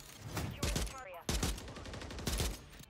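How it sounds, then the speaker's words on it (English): A Jak Volkh gun with the AMP fires repeatedly in the video game MW3, a dense run of loud close shots in quick bursts with short gaps, and a voice talks over it. "This is me firing as fast as I can."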